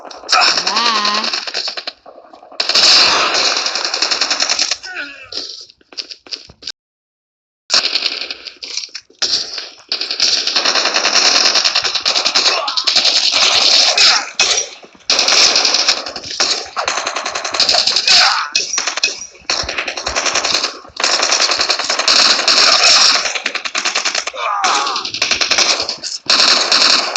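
Rapid bursts of M16 rifle fire in a military shooter video game, loud and sustained with brief pauses, under occasional shouted voices.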